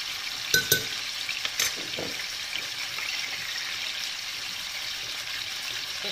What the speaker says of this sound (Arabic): تتقلاو هذا شوف الجزار وخليه يتقال على خاطرو